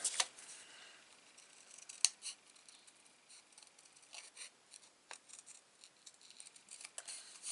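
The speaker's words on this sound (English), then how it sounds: "I'm going to grab my scissors and I'm going to get to trimming." Quiet, steady snipping of scissors cutting paper, with sharp clicks and soft rasping cuts in an uneven rhythm, close by and without voices.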